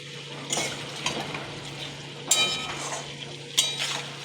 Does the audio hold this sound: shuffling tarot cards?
no